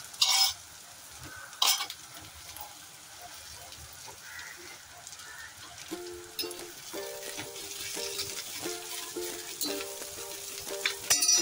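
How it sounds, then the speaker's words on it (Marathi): Sliced bitter gourd being slowly stirred and sautéed in a pan, a soft steady sizzle with a few scraping clacks of the spoon, faint and close with no talking. "हळूहळू हिला परतून घेऊया."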